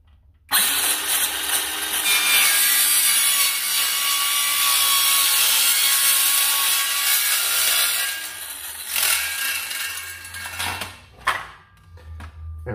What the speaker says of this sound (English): I'm gonna have to use a dremel anyways because this, even with the guard and everything, it's not gonna reach all the way into it